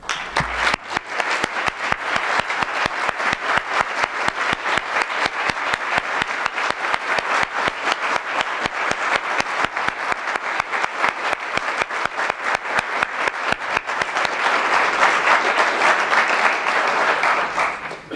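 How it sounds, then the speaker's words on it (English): Steady, dense applause from a seated audience at a university athletics hall of fame ceremony, honoring four inductees; a loud, sustained wash of clapping that swells slightly near the end before stopping abruptly. "please stand so that we can applaud all four of you now"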